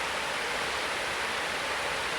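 Clear river water flows in a steady, full broadband rush, close and unbroken, with no voices over it.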